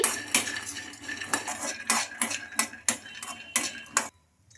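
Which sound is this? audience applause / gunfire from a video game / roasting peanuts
roasting peanuts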